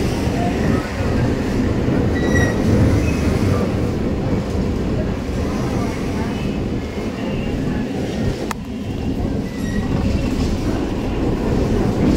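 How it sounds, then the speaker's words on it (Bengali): A metro train rumbles loudly and steadily nearby at Kavi Subhash station, with rolling wheel noise, a faint squeal and one sharp click partway through. "মেট্রো ধরবো।"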